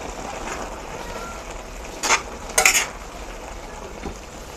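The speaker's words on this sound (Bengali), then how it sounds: "এখন ভালোভাবে নেড়ে চেড়ে মিশিয়ে নিব।" A spoon stirs carrot halwa mixed with condensed milk in a pan, giving a couple of brief scraping clatters over a soft, low cooking hiss.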